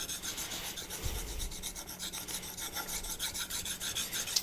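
Steady rhythmic rasping strokes of a convex knife blade drawn back and forth across a Naniwa diamond whetstone, close and continuous with no talking.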